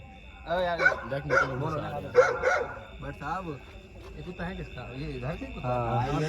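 At a backyard barbecue party by a swimming pool, a dog barks and yips in short bursts, mixed in with people talking nearby.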